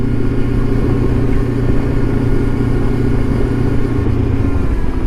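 A Lifan KPT 400 motorcycle fitted with a swapped front sprocket runs steadily while being ridden, a loud, continuous engine drone with a constant low throb and wind rush and no talking.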